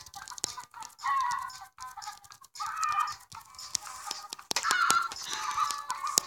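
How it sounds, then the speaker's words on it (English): Several chickens clucking in bursts in the video game Egg, Inc., with sharp clicky sounds between them, close and moderately loud, no voices. "Now I can make more chickens."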